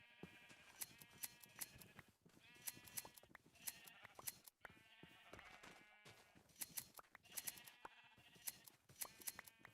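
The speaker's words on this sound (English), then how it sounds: "Come here, sheep. I need your wool." Repeated sheep bleats from Minecraft livestock, several short calls in a rhythmic pattern, fairly close and clear, with no talk over them.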